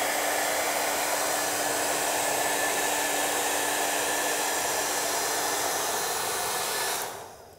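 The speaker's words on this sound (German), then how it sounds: "Dafür habe ich mir meinen Föhn mitgebracht." A hair dryer blows with a loud, constant whooshing hum and a steady whine, running unchanged before switching off at the very end.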